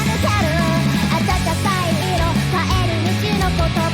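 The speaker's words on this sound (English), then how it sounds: "Sound like a piano in the background" Piano chords running beneath a song, part of a loud, full music mix with a sung melody over it, continuous throughout.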